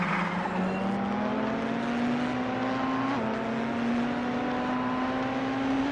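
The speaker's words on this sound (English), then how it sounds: "Amy is driving a 2019 BMW M GTE and is currently in 4th place" A 2019 BMW M GTE race car in a racing game roars at steady high revs, its engine pitch climbing gradually, then dropping briefly with a gear change before climbing again, loud and continuous with no talk.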